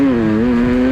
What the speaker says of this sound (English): laying down a hot lap on board the T500